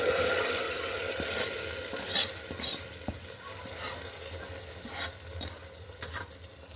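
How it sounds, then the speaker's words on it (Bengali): Spiced tempering of hot oil poured into simmering lentil dal, giving a steady sizzle with a few sharp bursts and clatters over a constant background hiss, fairly close, no voices. "আমি এখন ডালের মধ্যে সম্বারটা দিয়ে দিব এভাবে।"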